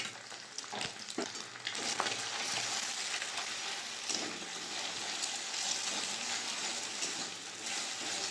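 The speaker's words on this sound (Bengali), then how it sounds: "ভালো করে কুচি কুচি করে ভেজে নেব" Two eggs with a little salt frying and being scrambled in mustard oil in a wok: a steady close sizzle with scraping stir strokes and a few sharp clicks of the utensil against the pan.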